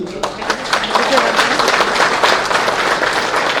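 An audience in a hall at a producers' union meeting claps in a dense, sustained burst of applause that stays loud and steady throughout.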